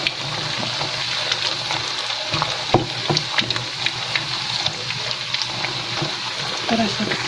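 Food frying in a home kitchen pan, a steady crackling sizzle running throughout with occasional scraping taps as pieces are turned, close and moderately loud with no voice over it.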